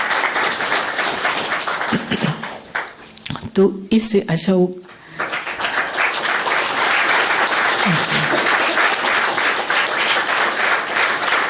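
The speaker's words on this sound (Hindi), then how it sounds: "ताली बजाइए इनके लिए" Audience at a Brahma Kumaris spiritual class applauding a participant; loud, sustained clapping at the start and again after a brief spoken phrase, continuing to the end.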